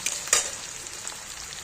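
Onions sizzle in a hot pan as spice paste goes in, a faint hissing fry with a couple of short sharp spatters near the start.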